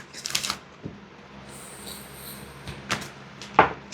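A few brief papery riffles and taps of oracle cards being shuffled, with a couple of sharper snaps near the end in an otherwise quiet room.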